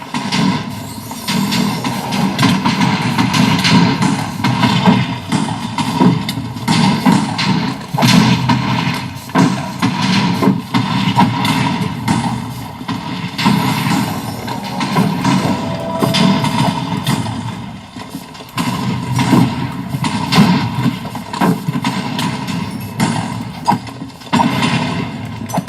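Mobs trading projectile fire in hardcore Minecraft Advent of Ascension: steady, repeated thumping shots and impacts over a dense, rumbling backdrop throughout.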